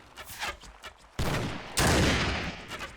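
Archers loosing volleys in a medieval battle video game, heard as sharp rapid cracks that give way to two sudden, dense, loud bursts of massed noise filling the rest of the clip.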